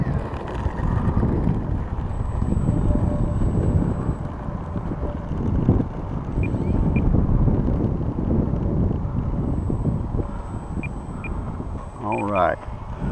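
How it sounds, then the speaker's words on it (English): Steady wind buffets the microphone at an outdoor flying field before an E-flite P-39 model plane flight, a constant low rumbling roar throughout with a voice partly buried beneath it. "Got a little bit of wind coming out of the southeast."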